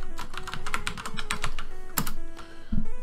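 Quick bursts of keystrokes on a computer keyboard, close and crisp, with a few pauses and a heavier key press near the end.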